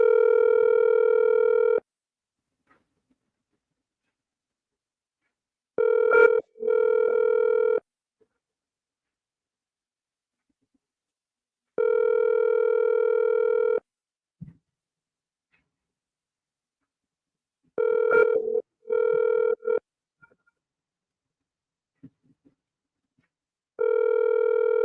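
A telephone ringback tone sounds on an outgoing call, with about five long, steady electronic rings separated by several seconds of silence and a few faint clicks between them.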